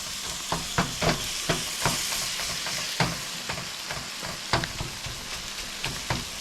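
Ground beef browns in a pan with a constant sizzle, broken by repeated sharp scrapes and taps of a utensil being stirred at an uneven rhythm.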